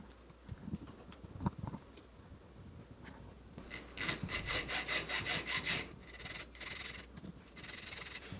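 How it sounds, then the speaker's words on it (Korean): A hand file shapes the overlapping faces of a metal marquise diamond frame for stone setting: scattered light taps and scrapes, then close rhythmic back-and-forth rasping strokes in quick repeated bursts. "줄로 겹쳐질 면을 깎아줍니다."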